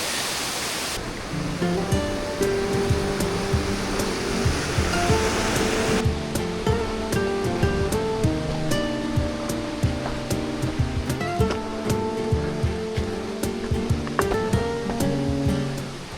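Pancawele waterfall on the Mount Gede trail via Cibodas, Indonesia, gives a continuous loud rushing roar that persists unbroken beneath a layer of music.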